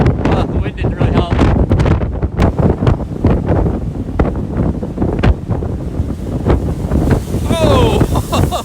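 Strong wind buffets the microphone at a West Michigan lakeshore during a December squall, a loud continuous roar with gusty swells, while surf rolls in and people talk over it throughout.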